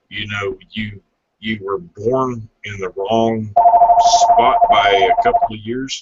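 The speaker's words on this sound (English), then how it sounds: "Sorry about the phone." A telephone rings loudly with a steady electronic trill, starting partway through while people talk before and over it.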